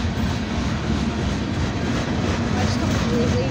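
Union Pacific SD70ACe diesel locomotives lead a Norfolk Southern freight train at a meet with a southbound manifest, a loud steady rumble of engines and rolling cars filling the whole stretch without pause.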